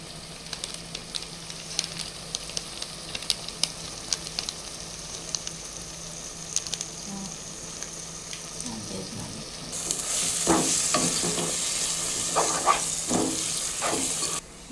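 Spices, chilli powder, garam masala, coriander powder and biryani masala fry for egg biryani with a steady close sizzle and light stirring scrapes, swelling into a louder, brighter sizzle for the last few seconds.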